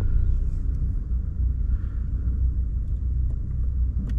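A 2022 Toyota Glanza facelift's engine idles after being switched on, a steady low rumble heard from inside the car, constant and moderately loud.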